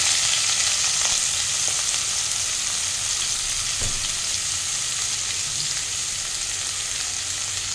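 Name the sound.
young jackfruit pieces frying in oil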